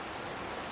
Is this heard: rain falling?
yes